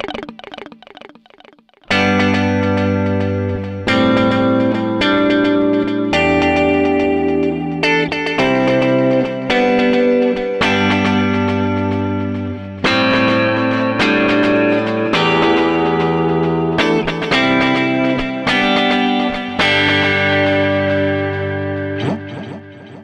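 Fender Player Plus Telecaster played through a stereo effects preset with shimmering repeating echoes, chorus and some drive, loud and sustained chord and note phrases throughout.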